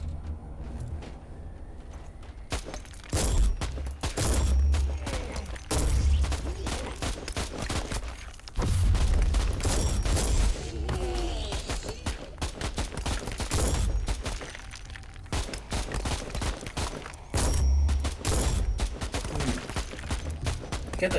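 Bursts of automatic gunfire in Warhammer: Inquisitor, a dark sci-fi action game, with loud rapid volleys separated by short lulls and a voice talking at times.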